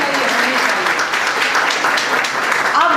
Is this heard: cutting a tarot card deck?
no